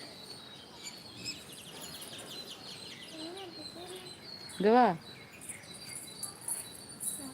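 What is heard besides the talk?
birds calling at sunrise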